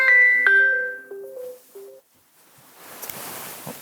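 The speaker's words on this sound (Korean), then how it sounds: "전화왔어? 저 방 전화 그냥 아주 축복이 터졌네." A phone rings in a room with a short electronic melody of bright, stepped tones lasting about two seconds, then stops, leaving a quiet room tone with a faint rustle.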